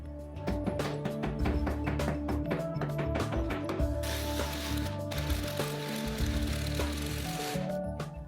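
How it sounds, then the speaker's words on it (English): Screw being driven to fix a metal dog gate bracket into a wall beside a front door, heard as close, quiet, rapid ratcheting and mechanical clicking with a brief harsher whir partway through. "Then I screwed the upper bracket into place."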